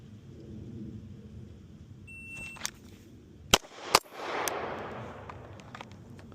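Two sharp pistol shots from a 2024 Staccato C during holster-draw shooting training, loud and close, spaced under half a second apart, with a softer report after and a rumbling echo trailing off.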